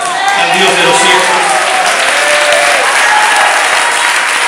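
Sustained, dense clapping from a church congregation during a Spanish-language sermon, loud and continuous throughout with voices calling out beneath it.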